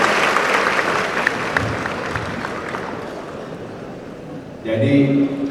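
Audience applause at a transportation academy graduation ceremony in a large hall, a steady broad wash of clapping that thins out before a voice comes in near the end.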